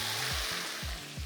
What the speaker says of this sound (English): Now, when you pour this, it's going to sizzle a lot.